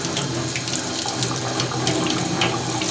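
Steady gush of water from a tap rinses liver-of-sulfur-blackened metal, a continuous close splashing stream with no voices.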